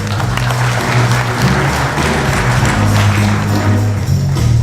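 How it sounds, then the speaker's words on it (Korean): Enthusiastic applause from a large audience at the opening ceremony of an urban regeneration forum, continuous and even throughout, with a low musical hum underneath. "큰 박수 부탁드립니다"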